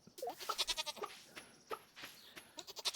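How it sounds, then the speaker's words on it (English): A goat in Stardew Valley bleats in quick wavering bursts, close and clear, with a short pause between two calls. "Right, we have a goat."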